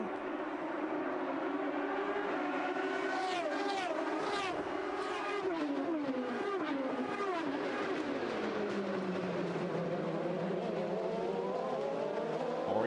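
IndyCar race cars scream past one after another through turns one and two at the Gold Coast Indy 300 street circuit in Surfers Paradise, 2008, with rising and falling engine whines that overlap in a continuous loud roar.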